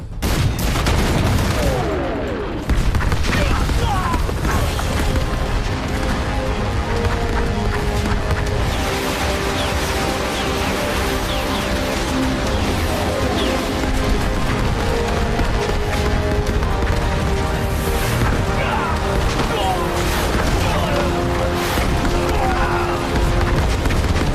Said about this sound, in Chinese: 原射击诸元不变，再来一轮火力覆盖！